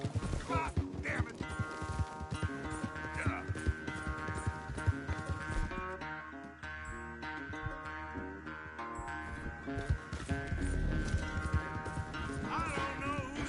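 Rhythmic galloping horse hoofbeats in The Sims 4 clop steadily over a musical score, with brief voices and game sound effects layered in.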